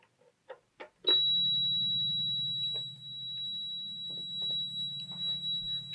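A REM pod paranormal detector beeps with a sharp onset, then holds a continuous buzzing electronic tone for several seconds that pulses and wavers near the end, close and fairly quiet, with no talk.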